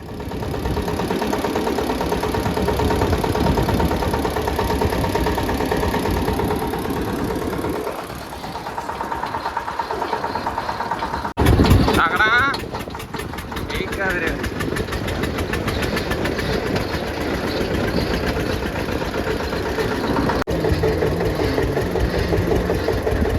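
A vehicle engine idles steadily at close range, with a brief louder burst partway through, as if the throttle is blipped. The engine is on a vehicle whose fitter-installed engine had been running without power. Voices talk over the engine.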